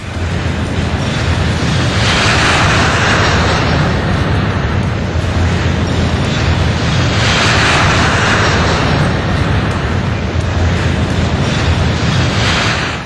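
Stratolaunch, the world's largest aircraft, flies on its first flight, giving a loud, steady broadband engine roar that swells gently and never breaks, with no voices.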